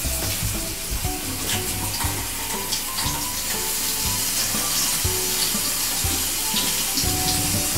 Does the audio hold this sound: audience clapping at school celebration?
no